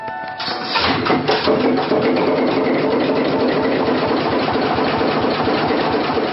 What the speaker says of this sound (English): our crew are able to raise the ship's massive anchor and get the engine started